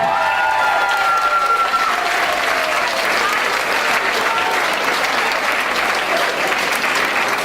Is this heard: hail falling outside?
no